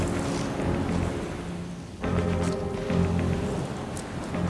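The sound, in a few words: cyclone storm with rain and wind in mangroves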